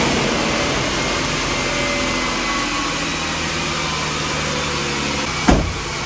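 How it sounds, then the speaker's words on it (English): A Ford Explorer with a freshly installed aluminum radiator, checked for rod knock and blowing smoke, runs with a loud, steady engine drone, broken near the end by a single sharp knock. "start this thing up and see if the engine knocks"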